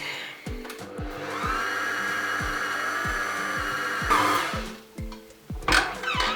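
An electric stand mixer kneads cruffin dough at increased speed, giving a steady whirring motor drone with a regular knocking thump, sounding close and continuous before a louder surge near the end.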